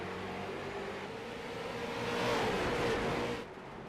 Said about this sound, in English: The sounds of these cars don't even sound like the regular late models or NASCAR iRacing cars.